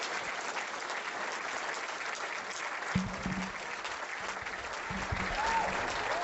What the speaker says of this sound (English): I have a round of applause for Kevin Shipp, whom I respect greatly.